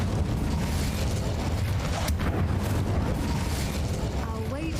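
A fiery Incendio spell bursts in the Hogwarts Legacy game world, a dense, sustained roar of flame and crackle that fills the whole moment without pause.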